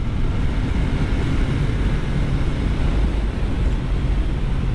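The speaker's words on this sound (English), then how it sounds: "with this being an inline 3-cylinder 660, that power is instant." Riding a 2023 Triumph Trident 660 with an inline three-cylinder engine: a continuous low rumble of engine and wind buffeting, steady and loud, with no talk.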